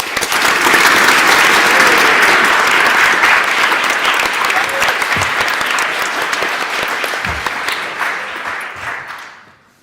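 An audience at a debating grand final breaks into loud, dense applause after a speech, keeping a full clapping roar for several seconds before it tapers off and stops.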